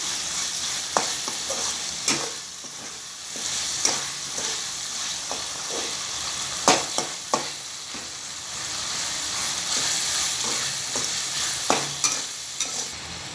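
Tomatoes stir and sauté in a hot pan for an Idli Manchurian, a steady frying sizzle broken by repeated sharp clicks of a spoon scraping the pan.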